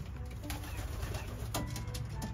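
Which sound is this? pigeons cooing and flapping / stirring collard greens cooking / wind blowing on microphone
pigeons cooing and flapping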